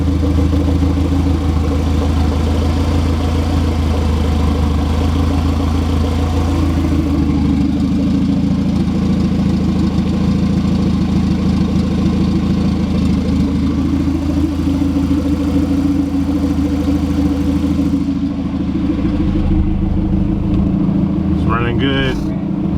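Honda Civic EF with a turbo engine idling steadily at close range, a continuous low drone with faint rattles throughout, and people talking over it.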